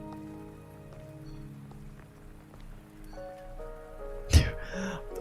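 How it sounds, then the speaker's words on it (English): Steady rain in a video game pours as a soft, even patter throughout, with game music tones running alongside and a brief louder thud near the end. "Are you trapped here by the rain?"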